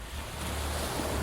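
Calm ocean waves wash steadily in a soft, continuous surf with a faint airy rush and no voices, heard only briefly.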